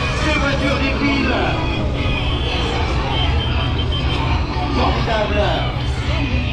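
Stunt show cars roll past a crowd of spectators at an outdoor event in Amilly, their engine rumble blending with crowd hubbub and a commentator talking over the scene.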